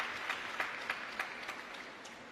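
A crowd at a WTT Singapore Smash 2025 table tennis quarterfinal applauds, with moderate clapping and a few sharp claps standing out in an even, slightly distant wash.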